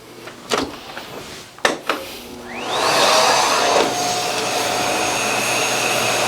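A Miele Boost CX1 Cat & Dog vacuum cleaner on a plush medium-to-high pile rug, with a few knocks and clicks first, then a rising whine as the motor spins up into a loud, steady roar.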